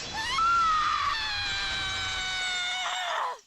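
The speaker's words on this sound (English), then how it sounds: "Jeez, that scream though." A dramatic video-game scream from Danganronpa V3 rings out as one long, loud, wavering cry that holds for about three seconds before cutting off.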